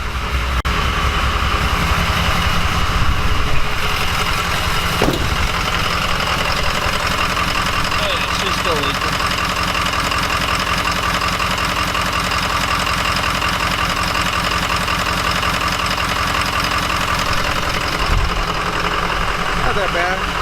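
A crew cab truck idles steadily after start-up following six months of sitting, its turbo engine giving a close, loud, continuous rumble with a rough knocking edge.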